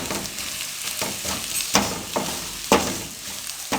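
Green chillies fry with spices for samosa filling, a steady oily sizzle broken by regular scraping stirs of a spoon against the pan, roughly every second, close and clear without talk.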